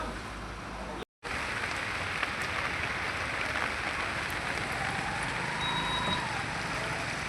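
Steady, dense rain patters on surfaces outdoors on a rainy day, a close, even wash of drops that barely varies, with one brief dropout near the start.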